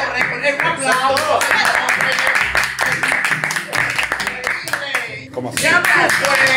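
People clapping together during a drinking game, sharp rapid hand claps in bursts close by, with excited voices over them.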